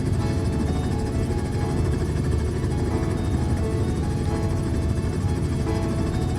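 Robinson R44 helicopter in flight in Microsoft Flight Simulator, a steady, dense rotor-and-engine drone that holds an even level throughout with no talk over it.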